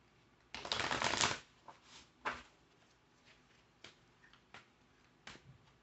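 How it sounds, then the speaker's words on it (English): A deck of cards riffle-shuffled once in a quick burst, followed by a few light taps and card snaps, close and quiet. "Okay, so let's shuffle up."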